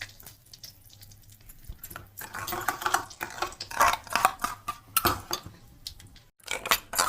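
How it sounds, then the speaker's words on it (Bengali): Dry chilli, curry leaves and mustard seeds hit hot oil previously used for frying aubergine, producing bursts of close sizzling and spattering with some clinks of a utensil against the pan, rising and falling irregularly. "বেগুনটা যে তেলে ভেজেছি সেই তেলটাই দিয়ে দেব। একটা শুকনো লঙ্কা, কারি পাতা আর দিয়ে দেবো একটু সর্ষে ফোড়ন"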